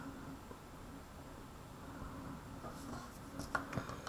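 Marker or pen writing out a math problem on a board during a lecture, faint continuous scratching with a few brief louder strokes near the end, no speech.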